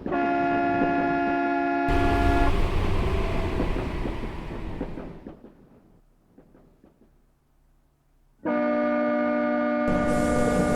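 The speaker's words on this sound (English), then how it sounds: "It sounds like a car." A car sound in Tragedy Tales of the Black Forest, heard as a loud tonal horn-like blast that gives way to rumbling noise, fades almost to silence, then a second horn blast cuts in sharply.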